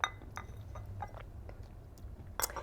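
Teacups clink together during a toast over tea, a few light, bright chinks near the start and a sharper one near the end, fairly close amid a soft room hum, with no talking.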